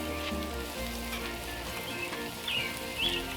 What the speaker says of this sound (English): since I've got a little browning going on, I'm going to go ahead in with my okra.